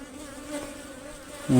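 Honey bees buzzing around a hive in a coffee plantation: a steady insect buzz hums close by for a moment, then briefly swells louder near the end.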